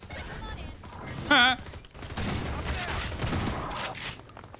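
Gunfire in Half-Life 2, a cluster of loud shots and rattling bursts with a short whistle-like tone earlier, and someone talking alongside.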